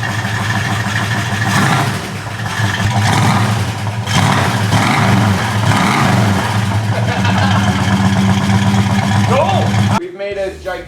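An engine on an abandoned 340 Plymouth Duster, left sitting for 30 years, roars and revs loudly and continuously with rising and falling pitch, then cuts off abruptly near the end, with voices mixed in.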